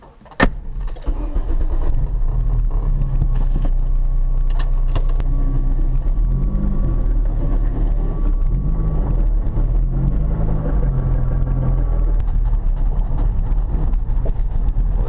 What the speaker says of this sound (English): it's starting to get dark out, but let's give it a test drive and see if it works.